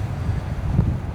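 Strong winter wind in a Finnish national park buffets the microphone with low, gusty rumbling throughout, no voices.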